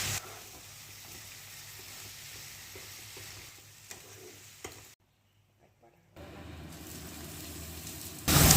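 Fried crabs sizzle steadily in a spiced masala of coriander powder, Kashmiri chilli powder, salt and turmeric while being stirred, followed by a brief near-silent gap and then louder frying.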